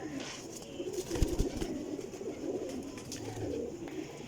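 Breeding pigeons coo softly at a loft in Jhelum, low murmuring calls with a few brief rustles, faint and distant-sounding under light background noise.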